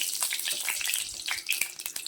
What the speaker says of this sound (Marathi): मोहरी तडतड झाली आहे